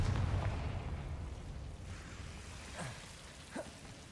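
A Confringo fire spell blasts in Hogwarts Legacy, a loud rumbling explosion that fades into a crackling, rain-like debris wash, with a few small pops and bursts late on.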